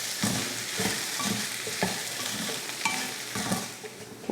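Spoon scraping and stirring mashed potato masala with turmeric and salt in a frying pan, soft irregular scrapes over a steady quiet sizzle, close up with no speech.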